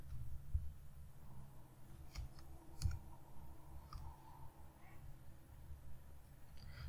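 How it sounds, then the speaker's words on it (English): A few faint, isolated keyboard key clicks sound against a quiet room hum, spaced irregularly and softly. "Click enter."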